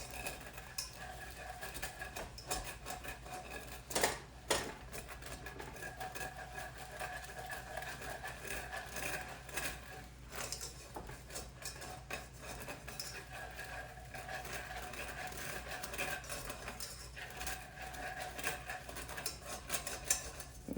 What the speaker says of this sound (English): We're gonna whisk that all together until it thickens up.